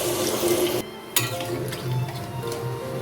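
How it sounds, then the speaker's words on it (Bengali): Water is poured into a pan of papaya and prawn curry with potatoes, heard as a steady close splashing pour that stops abruptly, followed by a clink and quieter kitchen sounds. "কষানো হয়ে গেলে এবার পরিমাণ মতন জল দিয়ে দিচ্ছি।"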